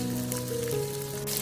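Pieces of fish pan-frying in oil over low heat, a steady, close, even sizzle throughout with no talking.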